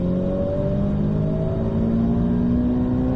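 A car accelerates hard on the Circuit de Bresse race track, its engine note climbing steadily in pitch as it pulls through the gear, loud and continuous from start to finish with no talk.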